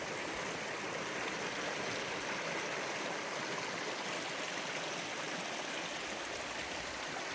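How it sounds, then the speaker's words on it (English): A small waterfall and stream pour continuously in a dense, even hiss of rushing water, steady and fairly close with no voices. "little waterfall going right there"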